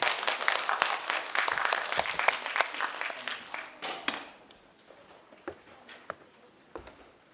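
Audience applause welcoming a university professor to the stage for a public science lecture on climate change in Daejeon, a dense patter of clapping that thins out toward the end.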